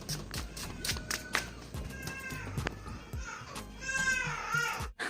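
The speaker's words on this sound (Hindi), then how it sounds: "तो मेरा बेटा उठकर रो रहा है अभी।" A baby boy cries after waking, with short wails and fussing cries rising toward the end, heard indoors alongside clicks and bits of household movement.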